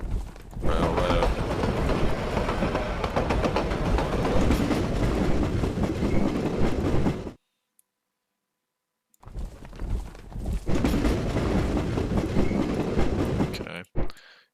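Steady rumbling clickety-clack of a train rolling along a railroad in the World War I strategy game To End All Wars, loud and continuous, cutting off abruptly into silence for a couple of seconds before resuming.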